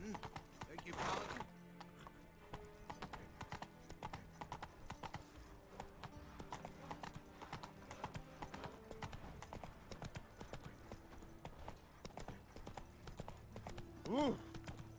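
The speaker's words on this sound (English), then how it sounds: "Go for a lovely horse ride, eh? Into the country." Rhythmic horse hooves clip-clop steadily at a walking pace, with a brief whinny near the end, in the video game The Witcher 3: Wild Hunt.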